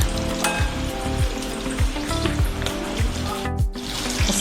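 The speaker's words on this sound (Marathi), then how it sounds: "मस्त आपल्या मिरच्या व्यवस्थित अशा तळल्या गेल्या." Green bell peppers stuffed with potato chutney sizzle loudly as they fry in hot oil, with a steady crackling hiss and a series of soft rhythmic scraping pops, close and continuous with no talking.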